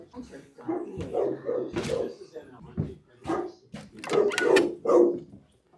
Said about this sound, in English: Got all these dog kennels, which are hosting all these wonderful dogs.